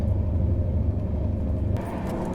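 The Lucknow Swarna Shatabdi train, heard from inside, overtakes a Diwali and Chhath holiday special train. The rumble is a loud, steady, low roar that shifts and thins slightly near the end.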